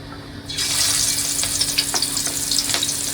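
Catla fish pieces hit hot oil in a wok: after a short quiet start, a loud sizzle bursts up and holds, with a few sharper spits and crackles close by.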